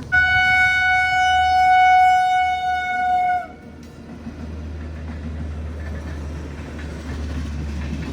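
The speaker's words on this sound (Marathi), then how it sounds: "हा आवाज वेगळाच आहे ना असा आवाज नसतो ना रेल्वेचा" A loud, sustained train horn blares for about three seconds, then gives way to the steady low rumble of a train rolling past.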